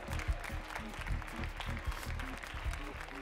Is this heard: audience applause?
yes